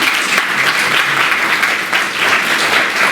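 Audience applause at a speaking event addressed by Dr. Sanjana Simon, a steady, dense clapping from a crowd that sustains throughout with a brief dip midway, close and loud.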